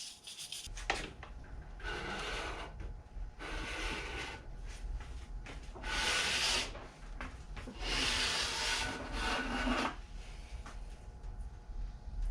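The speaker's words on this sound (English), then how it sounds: "all I'm really doing here is just scrubbing the gunk out of the grooves" A brass brush scrubs gunk out of the grooves of a snowboard edge, making repeated rough rasping strokes in bursts of one to two seconds, close and fairly quiet.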